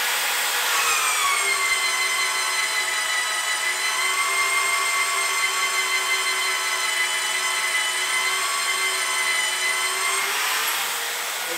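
A steady, high-pitched whine of a magnetic drill cutting holes in steel, sustained and loud for about ten seconds before winding down.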